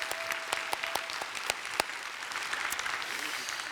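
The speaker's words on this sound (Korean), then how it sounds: "우리 하나님께 영광의 박수" A church congregation at an evening revival service applauds, many hands clapping in a brisk, full burst with sharp individual claps standing out early, then settling into a steady patter.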